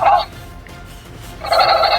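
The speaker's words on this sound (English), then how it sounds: "she makes her little Dolores noises" A Jurassic World Dolores animatronic dinosaur toy makes two short, chirpy gobbling calls separated by a pause, close up, with quiet background sound between them.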